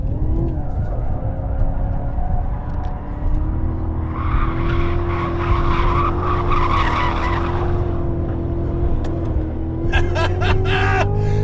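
A 2016 Cadillac CTS-V drifts on a track, its tires squealing in a long, loud screech over the steady roar of the engine, with the squeal rising strongly in the middle and a sharp burst of higher squealing near the end.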